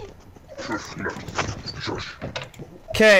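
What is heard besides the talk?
dog whining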